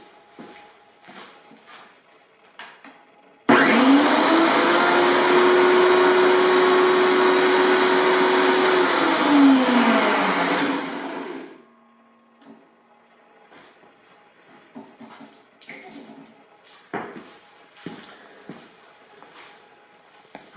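A SnowJoe snowblower's auger spins up suddenly into a loud, steady motor whine and whirring roar for about eight seconds, then winds down and stops, leaving faint clicks and handling noises.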